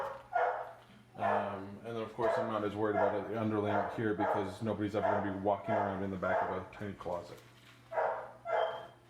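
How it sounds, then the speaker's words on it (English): Dogs bark and yip intermittently in a home during laminate flooring work, partly masked by someone talking steadily over them. "Sorry about the dogs."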